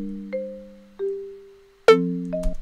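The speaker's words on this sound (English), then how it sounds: "So now the 808s will sound like this." 808 bass notes in Logic Pro X play a short melody, a few sustained low tones sliding between pitches, each starting with a soft attack and decaying, the last note punchier and brighter, alone without talk.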